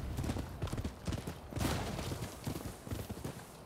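Horse hooves clip-clop on the ground in the video game Rise of the Ronin, a quick, steady trotting rhythm heard up close with no talk over it.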